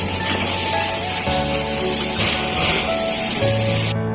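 Chicken liver and onions frying in a pan for a restaurant-style desi potta kaleji, a loud, steady sizzling hiss that runs continuously and cuts off sharply near the end.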